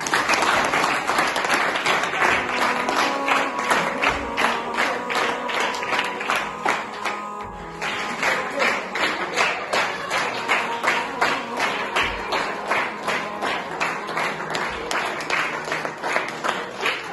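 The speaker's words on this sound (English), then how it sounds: "please welcome with a huge round of applause" At a certificate distribution ceremony, an audience gives a big round of applause to welcome the arriving guest of honor, loud sustained clapping that settles into a rhythmic, pulsing unison beat, with a faint voice or music tone underneath.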